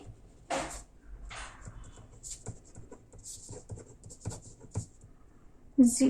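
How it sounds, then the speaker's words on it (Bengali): Pen or marker strokes scratching out an equation by hand on a surface, in short intermittent bursts across several seconds, fairly close and quiet, with faint background noise between strokes. "আমি এই সমীকরণটাই এখানে লিখে নিচ্ছি"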